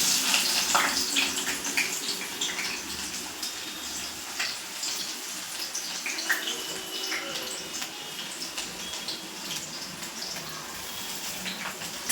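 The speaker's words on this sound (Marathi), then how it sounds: "त्यात तेल चांगलं गरम झालेलं आहे त्याच्यात मी हा कांदा कापलेला टाकत आहे" Chopped onion hits hot oil in a kadai, setting off a loud, continuous close-up sizzle and crackle that holds steady throughout.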